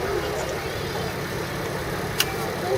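Steady low rumble of the TIV storm-chasing vehicle's engine running at idle, continuous and close, with a brief sharp click near the end.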